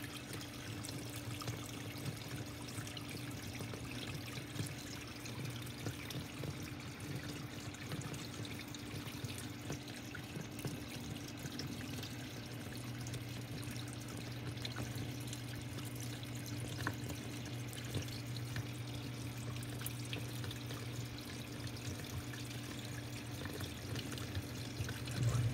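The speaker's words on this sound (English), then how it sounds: "Just gonna flush out the detergent dispenser." A Kenmore Elite Calypso washing machine flushes its detergent dispenser while water drains, a continuous even rush of pouring water with a steady low hum beneath, moderately loud and unchanging throughout.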